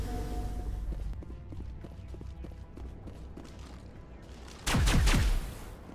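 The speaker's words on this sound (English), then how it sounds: "What are you shooting at?" Gunfire in a video game crackles as a run of scattered sharp shots, followed near the end by a louder burst of rapid firing close by.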